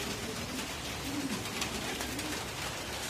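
Pigeons give soft, low cooing calls, several rolling coos repeated close by over a steady background hiss, with no talking.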